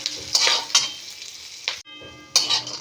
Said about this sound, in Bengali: কারি পাতা আর কাঁচা লঙ্কা একটু ভাজা হলে এরপর আমি গুঁড়ো মশলা অ্যাড করব।